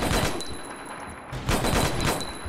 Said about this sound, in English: I shot him with my guns